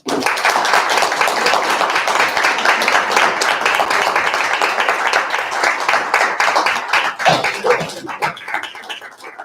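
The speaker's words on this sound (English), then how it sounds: "Please help me give a round of applause for the Counseling Center." Sustained applause and clapping from an audience at a student government meeting honoring the Counseling Center, dense and steady throughout before thinning slightly near the end.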